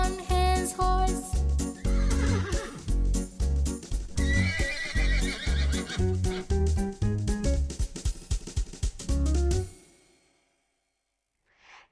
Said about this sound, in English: Did you hear the horse sounds in the song?